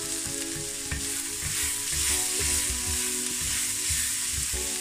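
Onions frying in a frying pan for Korean-style beef salad, a steady close sizzle with faint stirring scrapes throughout, no talking.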